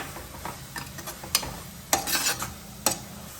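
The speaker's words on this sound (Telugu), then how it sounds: "ఇది టమాటా పేస్ట్ బాగా పచ్చివాసన పోయే వరకు ఎగితే చాలు." Tomato paste frying in a pan while being stirred, with scraping spoon strokes over a steady sizzle, several sharper scrapes standing out, close and fairly loud.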